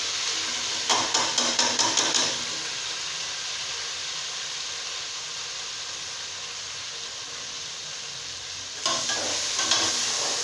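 Chopped tomatoes go into a pan of browned onions and sizzle loudly with broadband frying hiss, with bursts of stirring scrapes at the start and again near the end and a steady sizzle in between; no one speaks.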